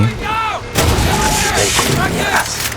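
Enemy gunfire in the video game Far Cry 6 during a hostage rescue aboard a giant ship at sea, a loud dense barrage of shots and blasts running throughout, with a brief lull partway before it resumes.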